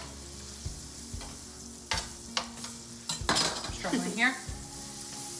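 Bisquick pancakes fry in a pat of butter, a faint sizzle under scattered clinks and scrapes of a utensil against the pan, with a brief spoken remark and a short quiet voice near the end.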